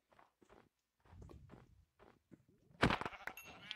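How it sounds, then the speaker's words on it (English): Sheep in a video game let out a few short bleats, followed by a louder, harsher burst of game sound near the end, with quiet gaps between the calls. "Sheep."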